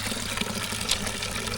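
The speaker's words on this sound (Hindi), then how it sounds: "अम्मा पानी भर रही हैं।" Water filling from a village hand pump installed at a school, a steady, fairly faint gush and trickle running continuously with no talk.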